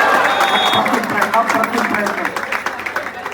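A crowd at a kabaddi match between Indian Navy and UP Yoddha applauds with scattered clapping and cheering, heard under a loud, excited commentator speaking over it.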